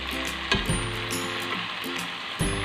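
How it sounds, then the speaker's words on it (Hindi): Chicken in green masala fries in oil with a loud, steady sizzle. A few clinks and scraping stirs break through it at intervals. "अब इसी ऑयल में हम इसको भून लेते हैं और इसके ऊपर ताकि नाइस गोल्डन क्रस्ट बन जाए"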